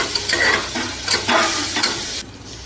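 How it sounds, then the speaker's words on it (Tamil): Tomatoes sauté in a pan for a chicken kulambu, a steady close sizzle broken by a few scraping stirs, with no talking, ending in a brief quieter moment. "இப்போ தக்காளி நல்லா வதங்கட்டும்."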